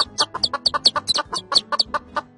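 Hen clucking rapidly to call her chicks, a close run of about a dozen short, rhythmic clucks used as a story sound effect, with no talking.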